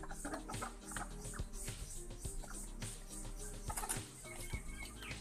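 Chickens clucking around a spot where dishes are being washed, scattered short clucks and calls mixed with clattering sharp knocks and a busy background.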